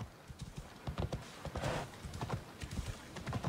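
Horse hooves clip-clopping at a steady pace while riding through a town in Assassin's Creed Odyssey, a rhythmic close patter of hoofbeats with faint ambient bustle, no talking.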